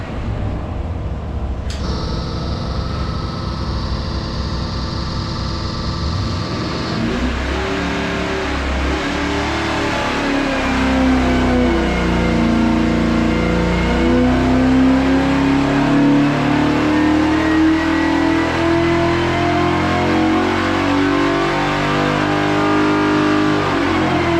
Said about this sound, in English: it did or didn't make 10 horse on that last video we made